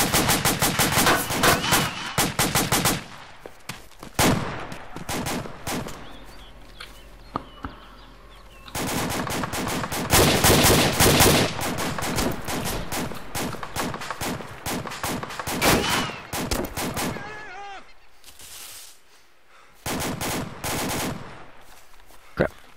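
Sustained gunfire in the military video game ARMA 2 with the A.C.E. mod, dense bursts of automatic fire and single shots, loud and near, pausing briefly before resuming, with occasional faint bird calls in the gaps.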